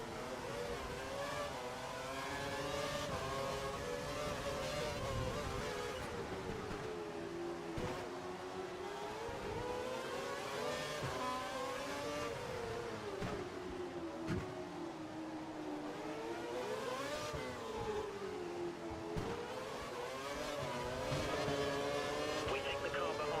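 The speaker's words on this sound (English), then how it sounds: "We think the car behind is running on full revs." Formula 1 race car engine in the F1 2012 video game, a continuous high whine that rises and falls with revs, sustained and fairly loud with a commentator's voice heard over it.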